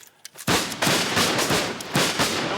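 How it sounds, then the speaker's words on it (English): Black-powder musket volleys and cannon fire from a period battle on screen, dense booming blasts and crackling shots rolling together loudly and continuously after a brief quiet start. "Black powder blasting by the ton on all sides."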